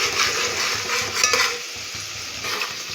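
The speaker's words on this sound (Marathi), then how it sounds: "तेल गरम झाल्यावर एक मोठा आकाराचा चिरलेला कांदा टाकूया। त्याला लाल होईपर्यंत परतून घेऊया चांगलं।" Chopped onion hisses and crackles steadily in hot oil, a close, continuous sizzle with stirring scrapes as it browns for Kolhapuri misal, no voices over it.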